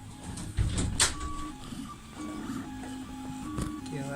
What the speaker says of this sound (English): 3D printing room.